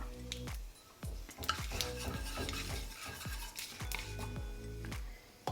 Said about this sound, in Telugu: కాస్త వేగనిద్దాం ఎండుమిరపకాయలు కరివేపాకు